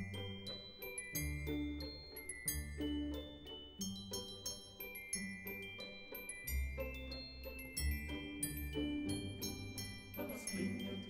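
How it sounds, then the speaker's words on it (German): Orchestral music from Mozart's Magic Flute with glockenspiel bells playing a rapid, bright run of struck metallic notes over sustained strings and low accompaniment, moderately loud throughout. "Komm, du schönes Glockenspiel, lass die Glöckchen klingen"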